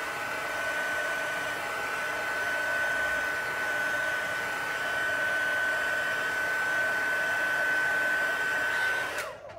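A hair dryer blows steadily and close up with a constant whine while drying a paper craft piece for a handmade card, then switches off abruptly near the end.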